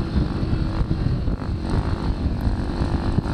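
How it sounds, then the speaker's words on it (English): A dirt bike speeds through a sandy hare scramble race at Horn Rapids, its engine a steady, loud roar heard close from the rider's position, mixed with rushing wind buffeting and no clear voices. "You can hear me kind of speeding up."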